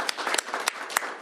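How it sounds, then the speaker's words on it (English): A small audience claps at a governor's bill signing, a brief burst of close, crisp applause with a few sharper individual claps standing out. "Please give her a round of applause"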